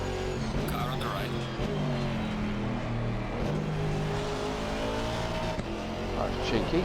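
Aston Martin GT4 race car engine in Assetto Corsa Competizione at Kyalami, droning steadily with shifting revs and passing cars, loud and continuous with a voice talking over it.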